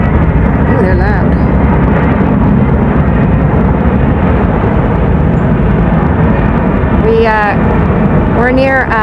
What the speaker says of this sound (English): Oh, we got some big helicopters coming by.